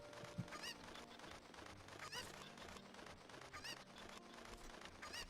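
A chicken in the video game Ocarina of Time gives repeated honking, squawking clucks, several bursts that recur at irregular intervals over a busy, cluttered game background.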